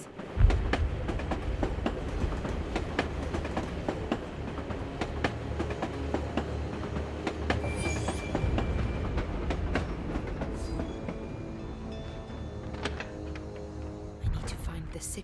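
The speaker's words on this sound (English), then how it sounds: "This tram will take me to the edge of the Volga." A tram rolls along its rails toward the Volga in Assassin's Creed Chronicles: Russia, a continuous heavy rumble with steady clicking of wheels over rail joints and occasional metallic squeals, loud and close throughout.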